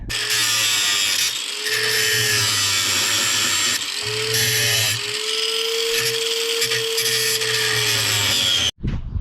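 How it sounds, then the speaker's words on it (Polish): A loud, high-pitched angle grinder cutting nails on a rabbit cage whines close up in long continuous bursts, its pitch dipping slightly under load, then cuts off abruptly. "teraz trzeba te gwoździe poobrzynać. To lecę po flexa"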